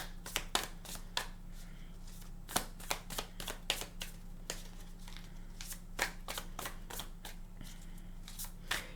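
Tarot cards being shuffled by hand, a quiet, close series of crisp riffling snaps and taps repeating irregularly over a faint steady hum.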